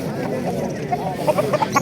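A rooster at the Qo'rg'ontepa poultry bazaar gives a string of short, close clucks in the latter half, set against market chatter and background voices.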